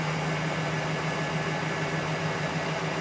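A 1988 Lincoln Town Car engine idling steadily just after its first start, with a faulty air pump and a cylinder that had been misfiring, a constant even hum and rumble, close and unbroken, no voices.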